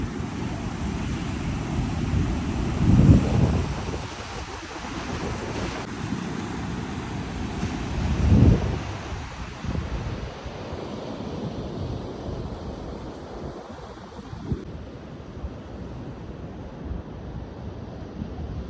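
Sea waves washing in on the shore, a continuous roar of surf with two louder surges breaking near the start, wind buffeting the microphone throughout, no voices.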